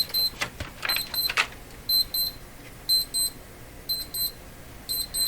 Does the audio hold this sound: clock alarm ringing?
yes